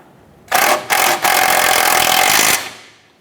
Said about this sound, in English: Let's go ahead and snug down that nut.